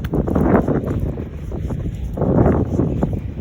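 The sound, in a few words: wind blowing outdoors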